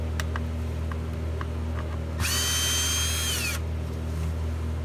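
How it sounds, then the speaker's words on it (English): Power drill whirring steadily for about a second and a half while backing screws out of the motor of a Miele Jazz vacuum cleaner, close and loud over a low hum. "you want to remove those two screws attached right there to the motor"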